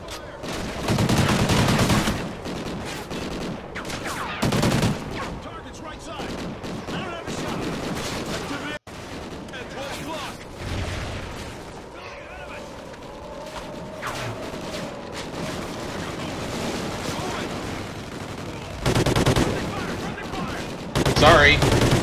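Gunfire crackles through a Call of Duty Ghosts combat mission on a bridge, with repeated loud bursts and volleys over a busy battle mix while voices talk over the action.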